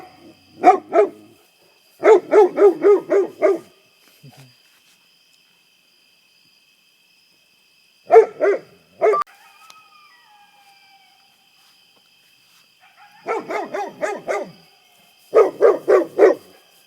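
Coyotes calling near a remote prepper cabin: several bursts of rapid, high barking yips come in separate clusters with quiet gaps between them, moderately close, against faint insect hum.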